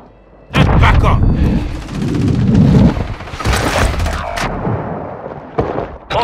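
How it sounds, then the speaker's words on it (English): Mortar strike explosions in Call of Duty: Modern Warfare II, a loud sudden boom followed by dense rumbling blasts and gunfire bursts lasting several seconds, with a voice calling out over the combat. "Hostile mortar strike incoming!"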